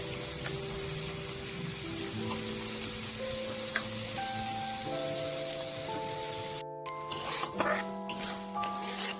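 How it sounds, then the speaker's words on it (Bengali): Chopped prawns being stir-fried in a pan for a Bengali greens and potato dish, a close steady sizzle with scraping and clinking of a utensil against the pan, underlaid by a soft musical tone, with a sharp cut near the end. "এবারে চিংড়ি মাছ দিয়ে আমি 2 মিনিট মতো কষে নেব।"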